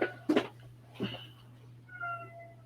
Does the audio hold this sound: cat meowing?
yes